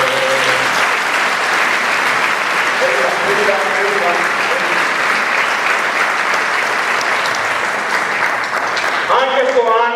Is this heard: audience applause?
yes